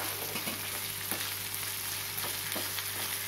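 Vallarai greens are stirred as they fry in a pan, a soft steady sizzle with occasional faint scrapes of a spoon, fairly quiet and without voices.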